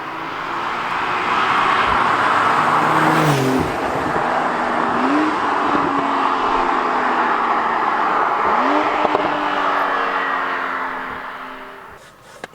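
A Porsche 911 Carrera S of the 992 generation drives past, its engine building to a loud, sustained roar with rising and falling revs that fades slightly near the end; no talking.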